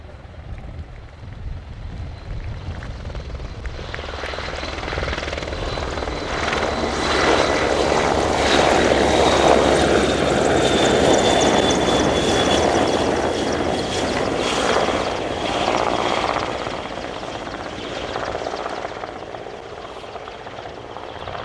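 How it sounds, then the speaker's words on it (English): A Portuguese Air Force AW101 Merlin helicopter roars past in a flying display, its heavy engine and rotor noise swelling to a loud peak midway, then slowly fading as it moves away. "the AW101 Merlin of the Portuguese Air Force,"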